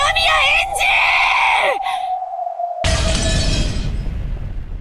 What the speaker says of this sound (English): As at Beato's scream, the world lost its sound